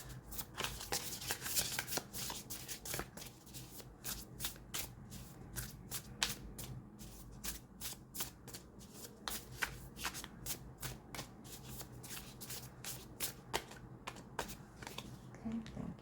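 Oracle cards from a new animal-themed deck being shuffled by hand, close and quiet, with a steady run of crisp riffling card flicks repeating throughout and no speech.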